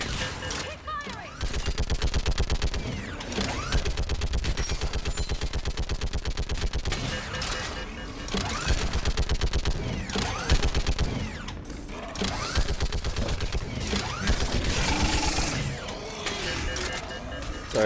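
Sustained automatic gunfire from a Mass Effect 3 battle, with dense rapid bursts rattling almost continuously for the whole stretch, loud and close, with short gaps between volleys and voices shouting over the shooting.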